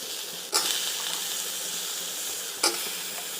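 Eggplant and drumstick pieces sauté in hot oil over cooked onion and tomato for a Tamil kara kuzhambu, a steady close sizzle broken by two sharp bursts as the vegetables are stirred or tossed.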